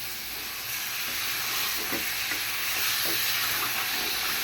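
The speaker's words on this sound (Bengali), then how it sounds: "টমেটোর সাথে আমি মাংসটাও দিয়ে দিতেছি একসাথে কষানো হয়ে যায়" Chicken pieces and tomato frying together in a pot for chicken biryani, a steady broad sizzle with a few soft stirring scrapes, close and continuous with no talk.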